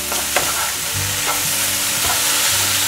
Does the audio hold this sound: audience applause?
no